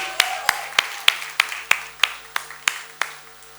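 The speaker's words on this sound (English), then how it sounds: "we can quadruple that round of applause" Applause from a press conference audience at a crime series trailer launch, heard as about eleven sharp, evenly spaced claps, fairly close and moderately loud, with no talk over them.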